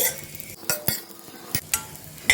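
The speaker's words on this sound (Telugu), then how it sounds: "ఈ పెన్నం వేడి ఉంటుందని నేను కొద్దిసేపు కలబెడుతున్నానండి" Roasted dry fruits are stirred in a hot pan for dry fruit laddu, a faint sizzle punctuated by several sharp, scraping strokes of the spoon against the pan at irregular intervals, with no voices.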